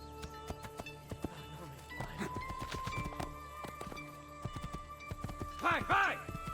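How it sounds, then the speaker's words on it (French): Rhythmic clip-clop of horse hooves from the video game Assassin's Creed II runs throughout, with a horse whinnying near the end and a voice speaking over it. "je suis obligé de prendre un cheval"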